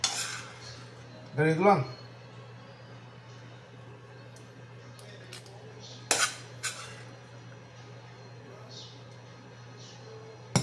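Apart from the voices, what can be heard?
scooping chicken fried rice with a scooper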